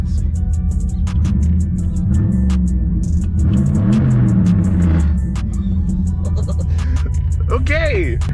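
Chevrolet Monte Carlo SS V8 engine, freshly tuned with HP Tuners, idles and revs in a steady rumbling drone with rising and falling engine pitch, voices talking over it.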